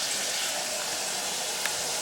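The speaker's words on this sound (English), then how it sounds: "I'm going to add maybe another cup of water or so." A cup of water poured into a bowl while making Sicilian-style stuffed artichokes, a steady close splashing gush lasting about two seconds.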